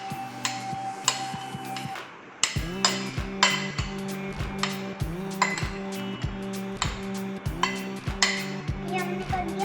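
Fox nuts being stirred with ghee in a bowl, a spoon clinking and scraping against the dish in a steady repeated rhythm, close and fairly loud, with no talking.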